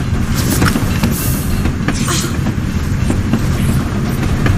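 Train in motion in the video game James Bond 007: Blood Stone, a steady loud rumble with faint rattling and clatter running throughout, no voices.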